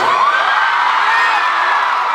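A large concert crowd in Malaysia cheers and screams continuously at a show, a loud, dense high-pitched roar with a few rising whoops.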